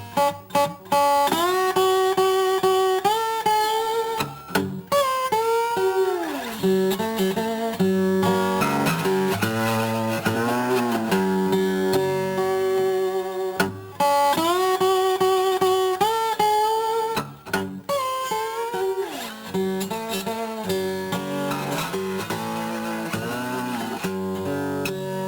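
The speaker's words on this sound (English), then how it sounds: "Then you put your bottleneck on and we'll try to play the tune." Bottleneck slide guitar plays a blues tune, its notes gliding up and down in pitch. A repeating phrase cycles twice, played steadily with brief pauses between runs, close and unaccompanied.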